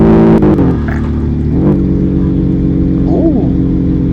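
Dodge Redeye car engine growling loud and close, with harmonic pitch sweeps as it downshifts and revs, a rising and falling blip near the end.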